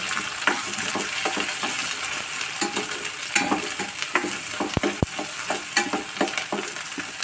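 Onions frying in a pan for raw mango rice, a steady close sizzle with frequent scraping stirs of a spoon against the metal and a couple of sharp clicks near the end.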